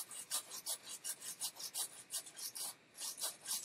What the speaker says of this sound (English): I'm just going to brush the board here.